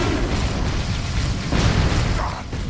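A blind grenade from the Dawn of War III game goes off amid battle, giving a dense, continuous roar of blasts and rumbling booms with no pause.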